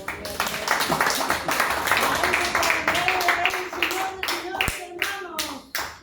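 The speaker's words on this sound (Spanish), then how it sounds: "Dale palmas a Jesús" A church congregation clapping for Jesus during a worship service: loud, close, rhythmic hand claps in a steady beat, over voices singing and calling out, with a few final isolated claps.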